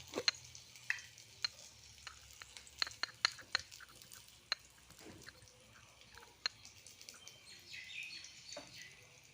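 Black cumin seeds sizzling in hot oil with bay leaves in a pan, a faint crackle with scattered sharp ticks and pops, close but quiet, no talk.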